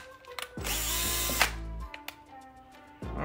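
A power drill whines steadily for about a second and a half while spinning in a rivet on a Pass & Seymour light switch, stops, then spins up again briefly near the end, close and loud.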